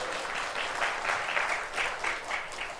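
A church congregation claps after a sermon blessing, a soft, somewhat distant patter of many hands with gentle swells, continuous and unaccompanied by speech.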